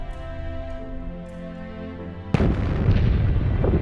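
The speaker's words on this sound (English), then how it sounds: "Scientists tested a whole new type of rocket, a vehicle propelled by small nuclear explosions." A nuclear test explosion: a deep, powerful blast bursts in suddenly after a low sustained rumble, followed by a loud, roaring blast that keeps thundering without fading.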